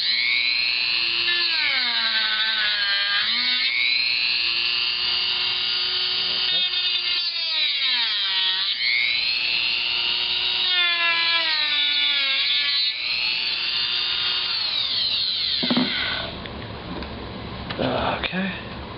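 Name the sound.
Dremel rotary tool cutting into HP G62 laptop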